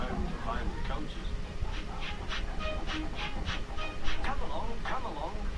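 Thomas, a small cartoon tank engine, runs along the rails with rhythmic chuffing and a clickety-clack beat, moderately loud under a narrator's voice.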